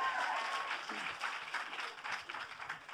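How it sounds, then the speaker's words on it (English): Dense, steady applause from an audience at a live event at the Grammy Museum, filling the full stretch with continuous clapping and no clear voices on top. "give him another round of applause for doing that so quickly"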